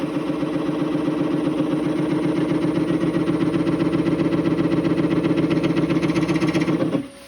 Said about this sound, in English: I'll turn the lathe down low